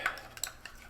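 Spoon stirring beef bouillon in a metal cup or canteen, a few light metallic clinks and scrapes in quick irregular succession, close and quiet with no talking.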